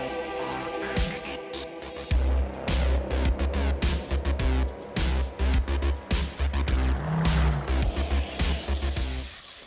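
Hot Wheels toy cars race down a track with a rumbling roll and a rapid series of sharp clicks and clacks as they run over joins and through the lanes, all close and fairly loud.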